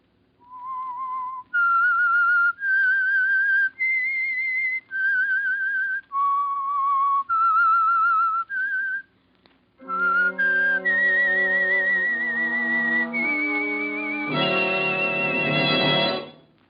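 A clear whistled tune opening a 1946 radio drama, a short melodic phrase of sustained notes, followed by a fuller orchestral passage picking up the theme, loud and close.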